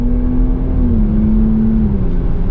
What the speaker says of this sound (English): now we're gonna get our acceleration and see how this 3-liter V6 performs